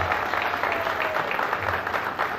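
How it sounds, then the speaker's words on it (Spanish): Applause from a gathered crowd at a celebration, a steady wash of dense clapping heard up close at fairly loud level, without clear pauses across the short stretch. "Está con nosotros nuestra amiga Rosa Gaeta, fuerte el aplauso"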